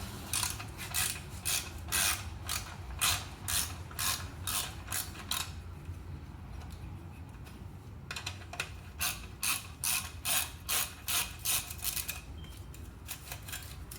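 Ratchet loosening a 10 mm clamp bolt on a Triumph Thruxton R slip-on muffler, with two bursts of quick, close metallic clicking separated by a short pause.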